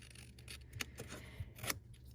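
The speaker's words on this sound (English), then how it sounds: "let me show you how I'm going to cut this out and then add this" Scissors cut around a stamped paper tag in a few faint, close snips, quiet against a soft background hiss.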